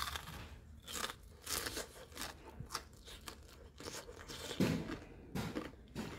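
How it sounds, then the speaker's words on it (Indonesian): Crunchy fried yellow pumpkin snack is bitten and chewed up close, giving irregular crisp crunches at a fairly low level. "Renyah sekali dan kriuk-kriuk."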